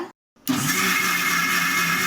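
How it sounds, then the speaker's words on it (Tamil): A mixer grinder whirs steadily at medium speed while grinding cake cream after a brief silent pause, its motor drone loud and continuous. "இப்போ நம்ம இந்த மிக்சியில் அரைக்க ஆரம்பிச்சிடலாம்"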